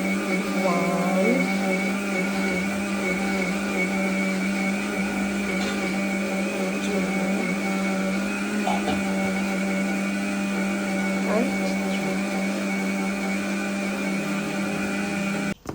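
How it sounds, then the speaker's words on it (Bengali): A steady electric grinder grinding sugar drones loudly and continuously, with a strong hum and no break, and a few faint clinks ride over it. "এই যে রাজু ওটাকে গ্রাইন্ড করছে"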